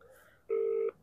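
A call placed from dad's phone rings out as a single steady electronic tone lasting under half a second, fairly clear over a quiet background, with no one speaking.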